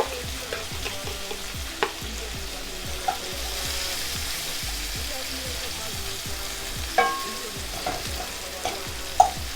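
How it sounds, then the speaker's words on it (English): Herring sprat dropped into hot oil in a pot and frying steadily, a continuous close crackling sizzle with sharper pops scattered throughout, no talking. "As you can hear the steam frying up."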